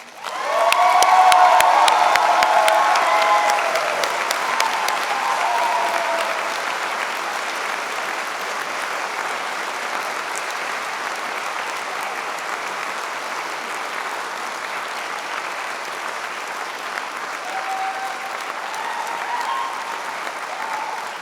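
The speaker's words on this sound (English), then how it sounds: "Graduates, a round of applause." Graduates at a spring convocation ceremony applaud in a large hall, a loud dense burst with some cheering that eases after a few seconds into long, steady sustained clapping.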